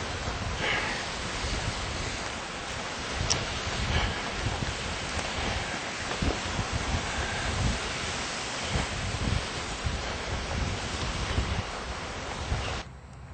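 Waves on Yellowstone Lake wash steadily against the shore in a continuous broadband rush, with gusts of wind across the microphone and no talking.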